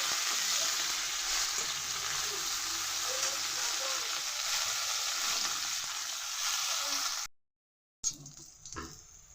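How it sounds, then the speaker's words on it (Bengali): Unsalted bitter gourd slices frying in oil in a wok make a loud, dense, steady sizzle close by that stops abruptly, followed by a short silence and a brief clatter. "লবণ ছাড়াই ভেজে নিচ্ছি।"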